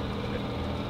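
A food truck's 450 gasoline engine idles with a steady, low, even rumble, heard alone for a brief moment.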